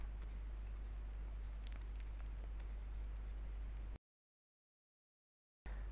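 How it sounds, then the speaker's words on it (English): Steady scratchy writing on a board during an analog electronics lecture, a continuous soft scraping over a constant low hum, then a brief cut to silence before it resumes. "I will write like this"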